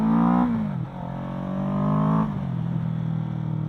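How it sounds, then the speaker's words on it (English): Kawasaki Ninja 650 motorcycle engine revving up while cold, not yet warmed up, held at fairly low revs with two loud swells that drop back to a steady idle, close and continuous with no talking. "I rev my engine up."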